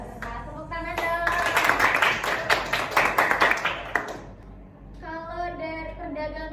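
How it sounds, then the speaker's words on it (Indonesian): A school class claps hands during a teaching-practice lesson, a few seconds of lively, uneven clapping from a room of students, then the applause stops and a voice continues speaking. "Nah, tepuk tangan dong."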